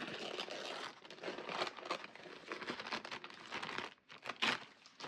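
Painted watercolor paper being ripped out for a collage, a close, continuous crinkling and tearing that runs for several seconds, with a brief pause before a final sharp tear.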